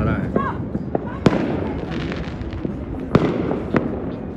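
Fireworks go off during Makar Sankranti celebrations in Jaipur, with sharp pops and bangs scattered irregularly, a few especially loud, over a constant festive crowd murmur and voices.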